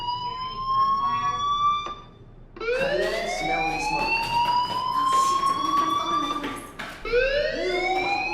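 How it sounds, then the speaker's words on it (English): A fire alarm in the video game Life is Strange wails with rising, sliding siren sweeps that repeat loudly, briefly pausing and restarting, with no talk over it. "Hey, do you hear that fire alarm?"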